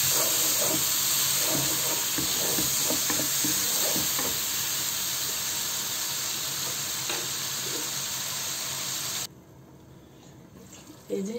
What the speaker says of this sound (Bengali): এটাকে আমি এখন ভালোভাবে তেলের মধ্যে ভেজে তারপর কষাতে দেব।